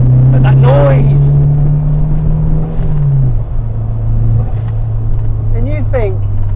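A Fiat Uno Turbo's engine drones loudly and steadily close by, its pitch holding then dropping slightly as it settles, with people talking over it.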